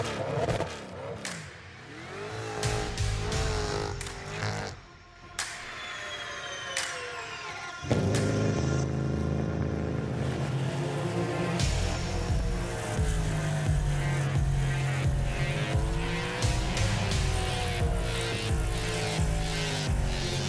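Cadillac V-Series Blackwing cars fire up and drive at Daytona, engines cranking and catching, then loud revs rising and falling as they pull away and run on, with no talk over them.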